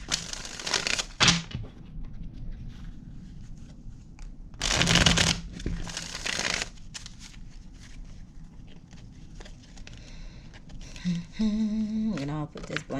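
Tarot cards being shuffled by hand during a reading, with bursts of riffling and sliding at irregular intervals, a louder flurry near the middle, and faint background sounds between.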